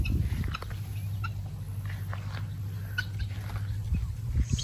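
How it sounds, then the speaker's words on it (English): Free-roaming adult guinea fowl on a permaculture farm give scattered squawks and clucks against a steady low rumble, birds nearby and moderately loud. "So here the Guinea Fowls, the adults, going where they want to go"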